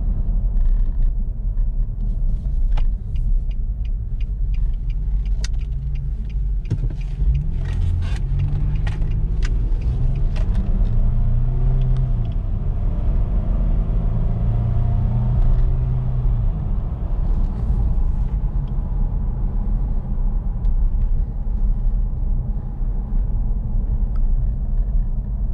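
A 2006 Nissan Xterra drives on the road, heard from inside as a steady low engine and road rumble with faint rattles and clicks, continuous and moderately loud.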